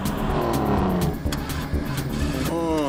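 Cartoon race cars in a Pocoyo race revving and driving close by, engine tones sweeping up and down continuously, with a rising whine near the end.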